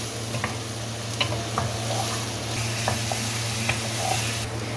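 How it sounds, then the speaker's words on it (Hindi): Onion sizzles steadily in hot oil, a constant crackling hiss with occasional light scrapes and ticks of stirring, close by. "प्याज को कलर चेंज तक इसमें बस फ्राई करें"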